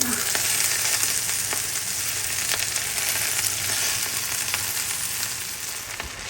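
Red amaranth leaves fry with shrimp in a hot pan, giving a loud, continuous sizzle with faint clicks of stirring and no voices.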